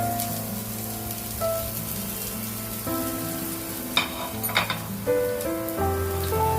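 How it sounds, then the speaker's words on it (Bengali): Onions tossed into hot oil with tempering spices fry with a steady close sizzle, punctuated by a few sharper crackles and stirring clinks near the middle, with no voices. "এরপরে আমি এখানে পেঁয়াজগুলো এই ফোড়নের মধ্যে দিয়ে দিলাম পেঁয়াজগুলো দিয়ে একটু পেঁয়াজটা একটু ভাজা ভাজা হবে"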